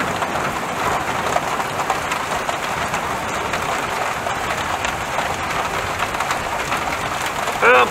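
Steady rain falling outdoors, a continuous close hiss of drops on surfaces with no break, and a brief louder sound near the end.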